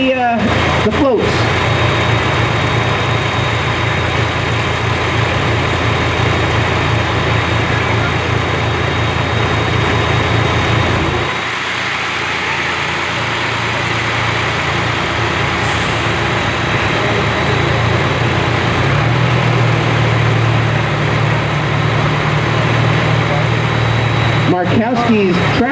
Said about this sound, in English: Markowski's tractor float is followed by the Rutland County Solid Waste District and their B truck